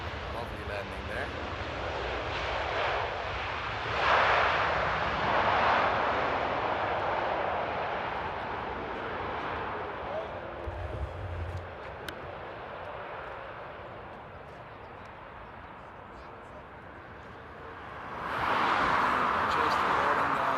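An airliner landing and rolling down the runway at Paris Charles de Gaulle, a steady broadband engine and rolling roar with louder swells near the start and end, heard at moderate distance with a voice talking over it.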